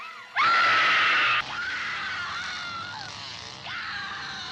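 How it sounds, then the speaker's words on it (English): A person screams loudly and at length, a piercing sustained cry that drops and continues in strained, wavering wails to the end. "Scream for your life."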